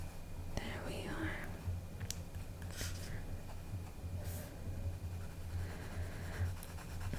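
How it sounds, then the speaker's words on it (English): Waxy crayon strokes scratch steadily across paper while candy canes on a Christmas coloring page are filled in, close and continuous, with a soft whispering voice talking over the scribbling. "I'm going to go ahead and color the candy canes."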